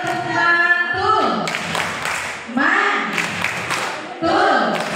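A group of early-childhood (PAUD) teachers and supervisors at a training session in Metro chant a rhythmic 'tepuk' cheer in unison, voices rising and falling in repeated phrases with clapping mixed in, loud and close.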